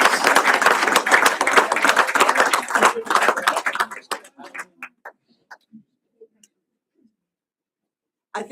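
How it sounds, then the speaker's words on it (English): A room at a Board of Education meeting breaks into dense applause that carries for about four seconds, then thins to a few scattered claps and falls silent, with a brief sound returning at the very end. "A real applause."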